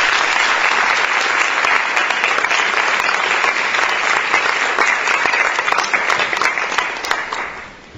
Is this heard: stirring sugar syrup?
no